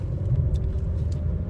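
A car rolls along with a steady low engine and road rumble, close and fairly quiet, with no voices over it.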